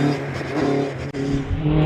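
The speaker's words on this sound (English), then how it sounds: "Terry Davis is on the line in the fourth TA car 151" A Trans Am class race car at the Prescott hillclimb revs hard and accelerates away from the line, a loud sustained engine roar with rising harmonics and a brief break midway, close and without talk.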